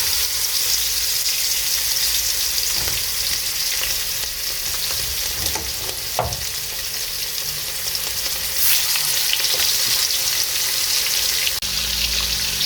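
Pieces of beef ossobuco browning in hot oil in a pan, a loud, continuous sizzle and crackle heard up close, with no voices and only a few small spits and pops.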